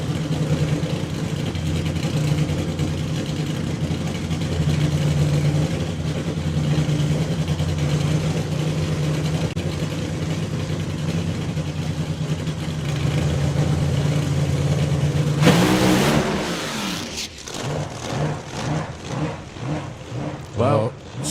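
A drag racing car at the FIA/FIM Euro Finals sits idling loudly, then launches with a sharp roaring burst as its rear tyres spin and bite, the engine note fading in pulses as it pulls away down the track.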